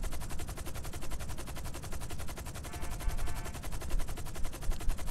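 Sustained rapid automatic gunfire in a video game, dense and continuous bursts of loud shots filling the whole stretch without pause.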